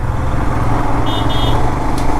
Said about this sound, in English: Welcome to the traffic road of Bangalore-Mysore highway